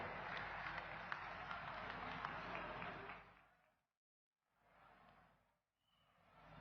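Audience applause at a lamp lighting ceremony for a state-level employment day in Neemuch, Madhya Pradesh, a steady wash of clapping that fades out, then returns faintly in a short later burst.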